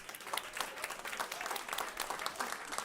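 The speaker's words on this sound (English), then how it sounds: "Please give him a round of applause." An indoor audience at a Climate Week NYC food talk claps to welcome Chef J.J. Johnson, a fairly soft but dense spatter of many hands, steady throughout with a few voices mixed in.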